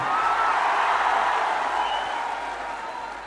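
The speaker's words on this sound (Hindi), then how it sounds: "अपने लिए जोरदार ताली बजाइए बैठकर आप।" A seated crowd at a political rally applauds, a dense, steady wash of clapping that is loud at first and gradually eases off toward the end.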